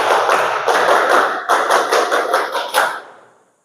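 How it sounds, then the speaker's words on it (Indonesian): Classroom of students performing the Pramuka scout clap, a dense run of rhythmic hand claps with short pauses between groups, close and loud, with no talking. "Tepuk pramuka."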